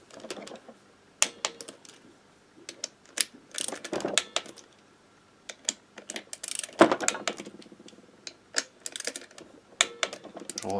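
Screws are tightened on a DT dirt bike during engine work, making irregular bursts of small ratcheting clicks and metallic tool taps. The sounds are close and quiet, with no talk.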